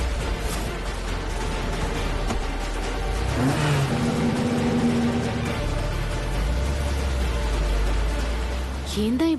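A car engine rumbles and revs loudly as the vehicle is driven by a drunk driver, a steady low drone rising in surges, with faint background noise throughout.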